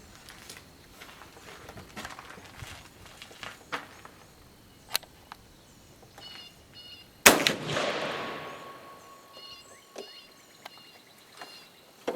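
A single sharp gunshot from a .43 Spanish reload fired over a chronograph outdoors, loud and close, followed by a brief decaying echo, amid faint ambient clicks and rustles.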